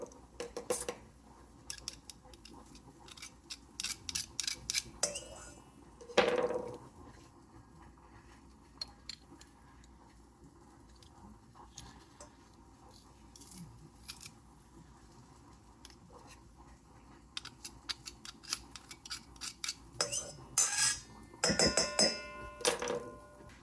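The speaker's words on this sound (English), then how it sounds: "in a small bowl, I'm going to mince some garlic." Two garlic cloves minced with a knife in a small bowl, heard as scattered sharp chopping taps in short bursts at the start and again near the end, with a quieter stretch between.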